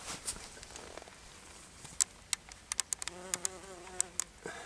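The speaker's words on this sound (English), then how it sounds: "it's just buzzing, buzzing, buzzing. Bees everywhere." Bees buzz steadily close by on an allotment, with sharp brief clicks and a droning hum that swells toward the end; no voices.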